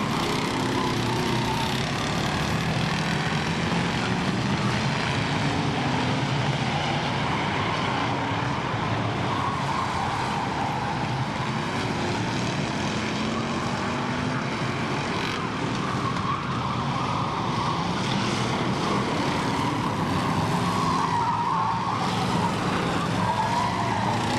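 Race cars roaring continuously around the north loop of KilKare Speedway in Dayton, a dense, loud engine drone filling the whole stretch with no clear pauses.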